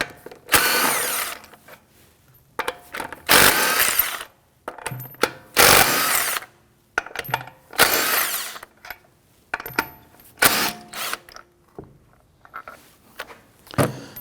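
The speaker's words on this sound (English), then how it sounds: "Using our 19mm socket, we're going to loosen and remove the lug studs." Power tool driving a 19mm socket to loosen and remove lug studs from a Volvo S60 front wheel: repeated loud bursts of whirring and rattling impact, each a second or so long, separated by quiet gaps, close up with no talking.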